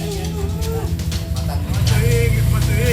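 Cattle at a livestock market where animals are suspected of foot-and-mouth disease, mooing and lowing up close over busy crowd noise and a passing engine, with people talking in the background.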